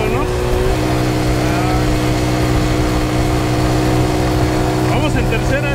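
A motorcycle engine hums steadily in third gear on the road, a loud continuous drone with a faint rise in pitch toward the end, under a man's speech.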